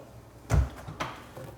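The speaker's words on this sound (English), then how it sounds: "So these are all on touch opens over here. So you just push, opens up the drawer." Push-to-open cabinet drawer in custom millwork released with a soft thump, then a lighter knock as it slides open, both close and fairly quiet.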